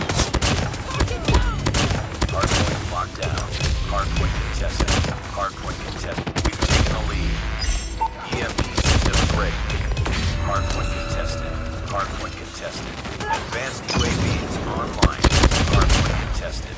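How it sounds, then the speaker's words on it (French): A weapon in the mobile game Call of Duty Mobile fires in single-shot mode, sharp repeated bangs in quick irregular bursts with other in-game gunfire and impacts around it, while someone talks over the action. "Il fallait simplement la mettre en coup par coup."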